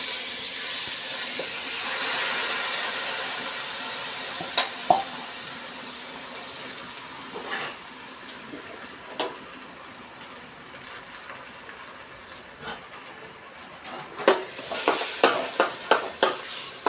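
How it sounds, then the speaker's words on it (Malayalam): Rice frying and being stirred in a pan for Kerala-style ghee rice (neichoru), a steady sizzle with intermittent scraping and clinking of the spoon, growing busier toward the end. "ആദ്യം ഈ അരി ഒന്ന് വറുത്ത് മൂപ്പിച്ചെടുക്കാം ഇതിലിട്ട്."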